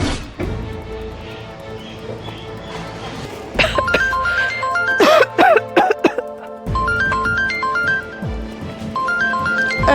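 A mobile phone rings with a repeating electronic tone over steady background music, loud and close, with a brief burst of louder noise in the middle.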